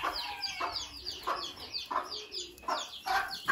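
A broody hen clucks repeatedly to call her chicks, a rhythmic series of close, moderately loud clucks with soft chirping from the young birds in the background.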